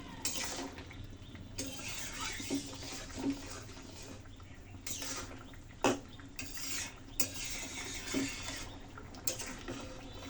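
A spoon stirs potato and eggplant with ginger paste and salt in a pot, making quiet, irregular scraping and clinking strokes separated by brief lulls.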